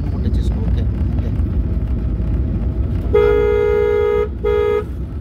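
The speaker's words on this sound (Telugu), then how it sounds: "హార్న్ కూడా టచ్ చేసుకో" A car horn honks twice in traffic, a long blare then a shorter one, loud and close over engine and road noise while a driving instructor talks.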